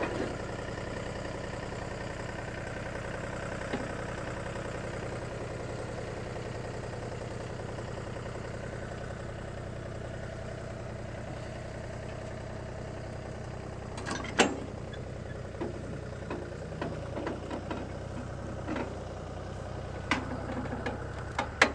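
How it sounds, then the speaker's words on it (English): A 1948 Ford 8N tractor engine runs at a steady idle, a low continuous hum that stays fairly quiet throughout, with a few sharp clicks and knocks near the end. "So the Ford you see behind me, this little tractor, is a 1948 8N."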